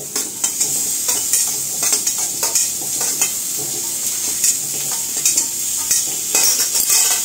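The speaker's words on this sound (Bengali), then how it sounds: "এখন এই যে পেঁয়াজগুলো দেওয়া হচ্ছে।" Whole onions fry in a hot pan for an onion curry, a steady loud sizzle running throughout with repeated scraping and stirring strokes of a spoon against the pan, close up and without talk.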